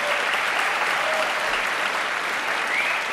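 A studio audience on a French television show breaks into applause, a dense, steady clapping that holds at even loudness throughout without a break.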